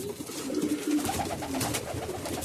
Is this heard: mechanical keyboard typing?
no